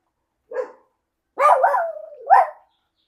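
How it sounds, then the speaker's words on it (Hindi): A dog being walked on a street in Goa barks alone, one short bark followed by a longer drawn-out bark and a final yelp, fairly close and clear against a quiet background. "लेडी अपना कुत्ता घुमा रही है। ये कुत्ता किसका है?"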